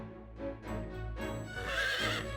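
Horse whinnying in the video game Fire Emblem Three Hopes, a loud, drawn-out neigh over a steady low game-music bed, with a faint clip-clop of hooves under it and no talking.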